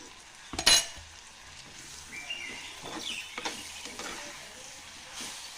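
Ground ivy gourd being mixed into oil in a clay pot, with a sharp utensil clink near the start followed by steady scraping and soft sizzling, close by and moderate in level.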